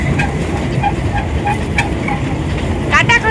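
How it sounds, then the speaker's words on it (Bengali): A toy train rolls past on its track with loud steady rumbling and clattering, a brief squeal near the end, and faint voices underneath. "ওই দেখ টয় ট্রেন আসছে"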